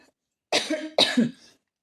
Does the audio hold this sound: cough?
yes